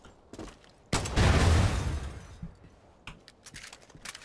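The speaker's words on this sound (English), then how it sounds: "And then explosion in slow motion." A slowed-down explosion in the Far Cry 5 video game: after a quiet moment, a deep drawn-out boom swells and rumbles for about a second, then decays into softer scattered crackles and thuds.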